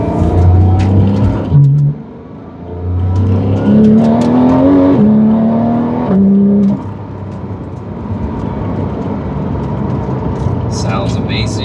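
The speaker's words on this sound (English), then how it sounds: "Car shifts nice and smooth." A 2018 Porsche 911 GT3 engine revs up through the gears, its rising tone dropping at each quick shift, loud and close from inside the car, then settling to a steady cruising drone.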